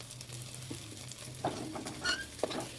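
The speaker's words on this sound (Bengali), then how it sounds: "ভাজা হচ্ছে" Quiet, steady sizzling of ivy gourd leaf fritters frying in oil, with a few soft clinks and scrapes of stirring.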